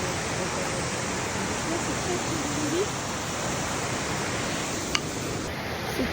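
The Vallorbe waterfall gives a steady, loud, close roar of rushing water that fills the whole clip without letting up.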